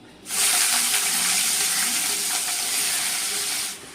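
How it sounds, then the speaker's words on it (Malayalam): Washed vegetables dropped into a pan of hot coconut oil, a loud steady sizzle bursting in at once, holding for several seconds, then cutting off, close and with no talk. "ഇനി നമ്മൾ കഴുകി വെച്ചിരുന്ന പച്ചക്കറികൾ നമുക്ക് അതിലേക്ക് ഇട്ട് കൊടുക്കാം"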